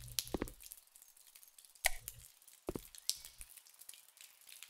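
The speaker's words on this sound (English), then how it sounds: "That's a good thing that something's dripping." Dripping water leak in the video game House Flipper, a few sparse, quiet plops and drips spaced irregularly against near silence.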